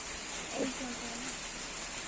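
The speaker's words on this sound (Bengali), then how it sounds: "কি সুন্দর বৃষ্টি পড়ছে" Rain falls steadily, making a continuous broadband hiss throughout, with a faint, brief voice briefly heard beneath it.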